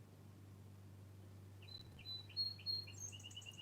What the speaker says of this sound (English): Hear that pretty bird out there tweeting like crazy